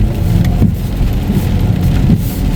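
Steady heavy rain pours down in a dense, constant hiss with a low rumble underneath, no voices and no letup.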